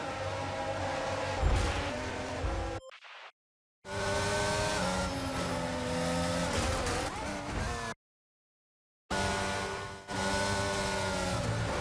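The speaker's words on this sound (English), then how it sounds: "And then I spin out." A Formula 1 car in the F1 2022 video game spins out with roaring engine and tire squeal, the sound cut by two abrupt gaps of silence.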